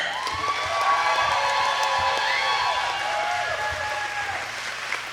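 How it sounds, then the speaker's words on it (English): Wrestling crowd at a Super Shogun Wrestling show applauding an opening dance, sustained clapping and cheering with whoops and whistling tones, a wide steady roar from a hall full of fans. "everybody give another round of applause for the ceremonial opening dance by Splitzer"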